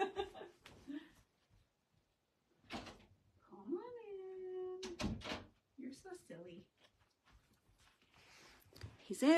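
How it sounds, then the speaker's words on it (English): A door opens and closes with knocks and rattles as a pet cat comes in from outside, with a drawn-out meow, while a person talks throughout at close range. "And now my kitty wants to come in."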